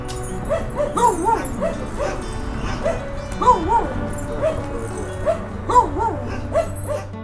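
Several dogs at an animal shelter in Poltava bark and yip repeatedly nearby, overlapping in uneven bursts, with some whining between barks.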